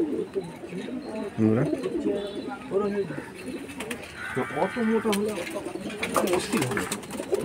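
Soft cooing from Madras pigeons rises and falls in low murmurs, mixed with nearby bird calls and a person talking over it.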